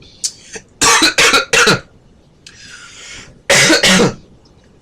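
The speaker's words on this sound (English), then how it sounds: "my cough has been getting kind of bad these last couple days" Someone close by coughs harshly in two clusters of rapid, rasping bursts, separated by a short pause with a faint breathy sound.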